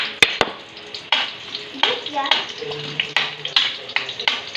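Onion and garlic sautéing in a pan, a sizzle broken by repeated sharp knocks and scrapes of a ladle against the pan, with faint voices talking in the background.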